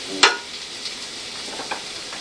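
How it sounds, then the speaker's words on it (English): A simmering sauce stirred in a frying pan for fried shrimp: one sharp scrape of the utensil against the pan, then a steady soft sizzle with a couple of faint clicks. "Let me stir that around."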